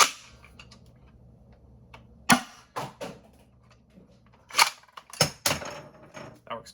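Toy Breacher shotgun blaster prototype firing Rival foam balls: four or five sharp, close pops spaced irregularly over several seconds, each a loud snap with a brief mechanical rattle, with quiet handling noise between shots.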